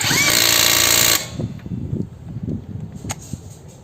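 A Molita cordless impact wrench loosens a bolt in one loud, rattling hammering burst of about a second, then cuts off, leaving faint handling clicks and knocks close by.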